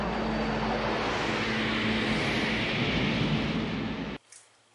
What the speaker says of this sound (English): We got a small jet in trouble over restricted airspace.